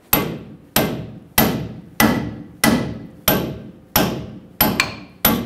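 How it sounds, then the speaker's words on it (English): Nine sharp metallic hammer strikes on a seized lower control arm of a 2007-2014 Chevrolet Silverado 2500 HD, landing at an even, deliberate pace with a couple of quicker hits near the end, close and ringing briefly after each blow. "Take a hammer, tap it down."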